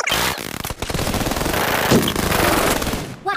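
Rapid automatic gunfire rattles loudly and continuously in the mobile battle-royale shooter PUBG Mobile, with dense bursts of shots that break off briefly near the start and stop at the end.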